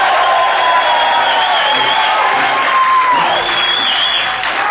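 A rock concert crowd at The Music Box in Atlantic City applauds and cheers loudly during band member introductions, a dense, steady wash of clapping with whistles and shouts throughout.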